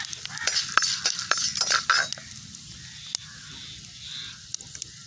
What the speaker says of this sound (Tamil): மிளகு லைட்டாக வறுத்து எடுத்துக்கிறோம்.